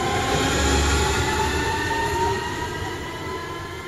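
An S5 S-Bahn train at Bietigheim-Bissingen station, a loud steady rumble and whine of rolling rail cars close by that eases slightly toward the end, with no talk.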